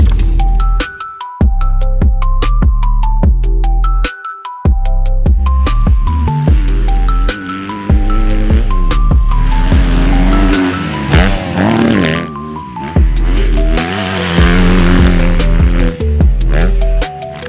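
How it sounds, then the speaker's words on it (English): A 2025 Kawasaki KX250 dirt bike ridden in Washougal, Washington, its engine loud and close, revving up and down through repeated throttle bursts with shifting pitch and brief drops between. "This is the 2025 Kawasaki KX250."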